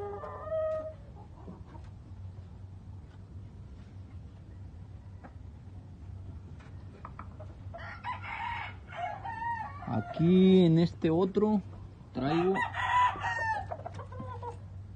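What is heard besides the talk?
rooster crowing and clucking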